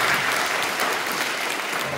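A church congregation at a Friday overnight prayer service in Incheon applauds, producing a dense, even wash of clapping that carries steadily through the short moment.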